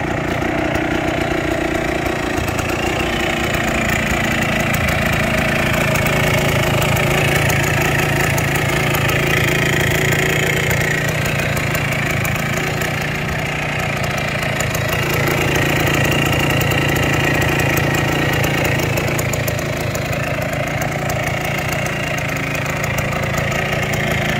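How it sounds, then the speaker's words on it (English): A 1970s Kawasaki 350 Bighorn big bore rotary-valve two-stroke enduro motorcycle engine runs steadily close by, a loud, buzzing, rattly drone at a fairly constant pace with slight rises and dips over time. "Absolutely the fastest 70s big bore 350 two-stroke I've ever ridden up the driveway here."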